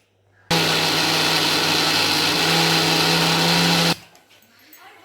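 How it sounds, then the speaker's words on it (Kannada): A mixer grinder grinding coconut whirs loudly for about three seconds, a steady high-pitched motor roar that starts and stops sharply. "ಇದೆಲ್ಲ ಚೆನ್ನಾಗಿ ಈಗ ನುಣ್ಣಗೆ ರುಬ್ಕೊಳ್ಳೋಣ ಈಗ ಮಿಕ್ಸಿಲಿ"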